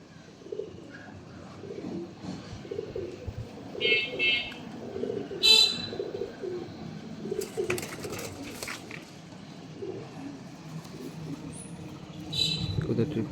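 Teddy pigeons coo in low, soft, repeated murmurs, with scattered higher chirps over a steady background. Voices can be heard now and then.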